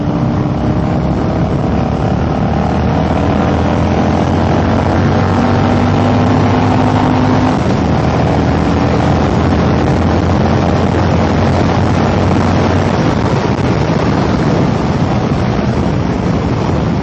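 A Harley Dyna with a 95-inch motor pulls hard under wide open throttle. The loud, continuous engine roar fills the whole stretch, with its pitch sweeping as it revs, and no talk over it.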